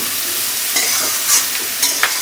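Rohu fish curry ingredients being sautéed in a pan, with a steady close sizzle and a few brief scraping stirs of a spatula, no voices.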